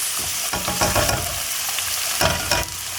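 Two cans of corned beef sizzle in a hot pan while being stirred, a steady frying hiss broken by repeated scraping and clattering strokes of the utensil, close and loud with no talking.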